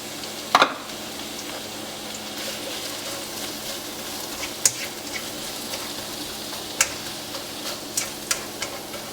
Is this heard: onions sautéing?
yes